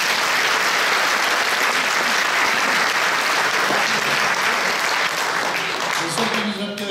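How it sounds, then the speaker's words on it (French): Sustained audience applause at a concert fills the hall, dense and loud throughout, tapering slightly near the end. "Si vous voulez bien les applaudir aussi."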